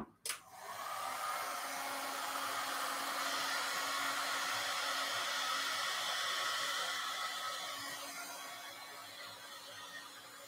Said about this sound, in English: I'm just standing here with this heat gun.